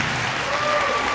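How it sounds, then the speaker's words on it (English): Audience applause at a school student and staff recognition awards ceremony, a steady dense clapping from a crowd filling the room, continuous and fairly loud throughout. "Let's give them a round of applause."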